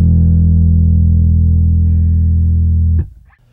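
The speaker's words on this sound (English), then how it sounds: "adding anything from subtle tube-like harmonic and natural compression to obliterating distortion" Bass guitar through a Darkglass Microtubes 500 amp gives a loud, sustained, thick distorted note that holds steady for about three seconds before it cuts off abruptly and decays.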